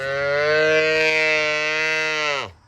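A loud cow, one of the noisiest in a farm herd, gives a single long, sustained moo close by that holds steady for over two seconds before dropping off abruptly.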